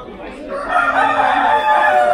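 A rooster at the Indagra 2022 animal fair in Romania crows once, close and loud, a long strained call lasting about two seconds.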